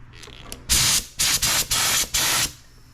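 An adjustable spray bottle mists tire and trim dressing in four or five sharp hissing bursts, loud and close, with brief gaps between pumps and no talking.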